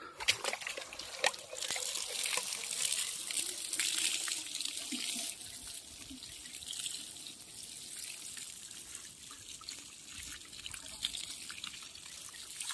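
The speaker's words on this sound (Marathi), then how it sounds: "तसेच आपण या ठिकाणी यास पाणी सुद्धा आपण देणार आहोत." Water poured onto a newly planted custard apple sapling in its dug basin, a steady close trickle and splash that runs for several seconds, then eases into a lighter dribble and intermittent drips.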